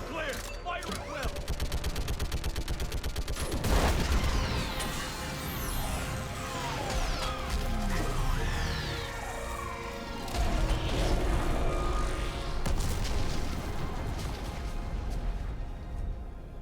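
Video game gunfire and explosions from Mass Effect Legendary Edition during a battle against a Reaper, a dense, continuous barrage of rapid shots and blasts with voices mixed in.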